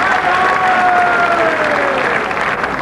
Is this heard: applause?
yes